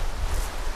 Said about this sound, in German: Und es ist extrem windig.